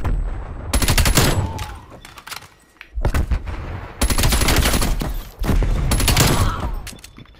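Rapid bursts of automatic gunfire from Call of Duty Black Ops Cold War, loud and close, in two long sustained stretches separated by a brief lull.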